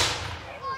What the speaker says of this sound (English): I hope they're firing blanks